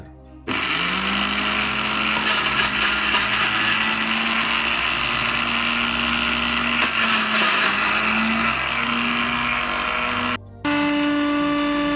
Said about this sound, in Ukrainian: Коли все порізали, закидаємо у блендер.